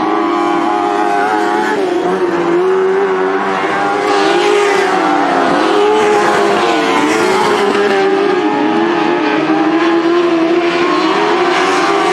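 Sprint cars scream around the Southern Oregon Speedway oval in an ASCS Northwest Region race, a loud, sustained engine roar that rises and falls as cars pass and throttle through the turns.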